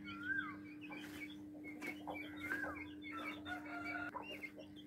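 Hens cluck near a coop with Indian Runner ducks and guinea fowl kept nearby, giving several bursts of clucking and a short crow over a steady low electrical hum, at moderate distance.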